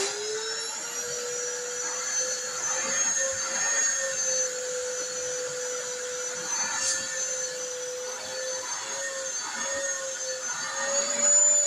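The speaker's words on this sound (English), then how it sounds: "Every time that vacuum bogs down a little bit, making good contact with Ida, it peaks out at about 850." A vacuum cleaner powered by an EcoFlow River 2 Pro 800 power station runs steadily with a high, whining motor drone, its pitch wavering slightly as it bogs down, close and continuous with no talking.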